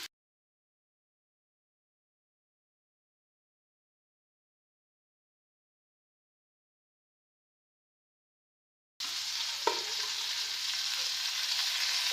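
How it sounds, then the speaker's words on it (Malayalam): Tuna pieces fry in a pan of hot oil, a steady hiss that starts abruptly partway through after a long silence and runs on evenly to the end, with a brief clink near its start. "എല്ലാ മീനും ഫ്രൈ ചെയ്ത് കഴിഞ്ഞു"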